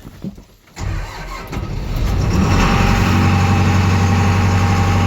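A New Holland tractor engine turns over after a few cab clicks and a pause, catches, then settles into a loud, steady diesel idle heard from inside the cab, with no talk.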